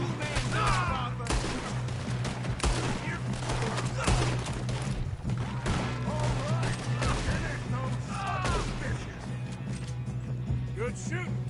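Rapid gunfire in a Red Dead Redemption 2 shootout, repeated sharp cracks and volleys throughout, with characters talking over the fighting and a steady low hum underneath.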